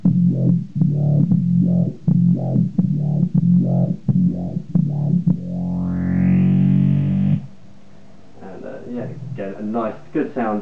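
A Behringer BSY600 synthesizer pulses a rhythmic run of gritty, distorted notes, then one note swells brighter under an FCV100 expression pedal before stopping, followed by someone talking.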